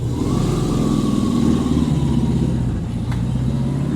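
A 1968 VW Type 3 with dual 34 carburetors pulls away in second gear, its engine rising in pitch through a loud, close revving build before easing slightly.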